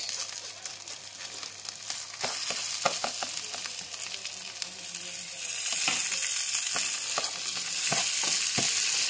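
Food sizzling and frying in a pan, a dense continuous crackle with sharp pops and occasional stirring clicks, growing slightly louder over time, close up with no voices.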